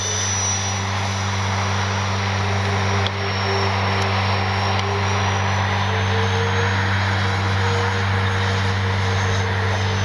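A Flightline OV-10 Bronco radio-controlled model plane drones steadily throughout at a constant, fairly loud level, its engines producing a continuous whine with no pauses.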